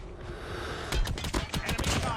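A burst of rapid gunfire from a weapon in the mobile shooter COD Mobile, starting about a second in as a string of sharp, loud shots over a steady game background.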